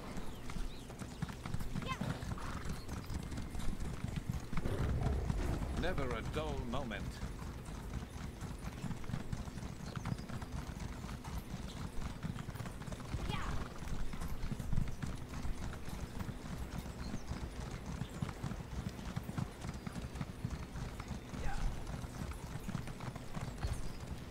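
Horse hooves clip-clop steadily through a ride in Elder Scrolls Online's Elsweyr, a continuous rhythmic trot under game music and ambience, with people talking over it.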